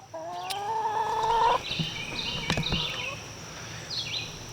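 Chickens around a mobile chicken coop cluck and call, with one drawn-out harmonic squawk early, then scattered shorter clucks over a quiet outdoor background.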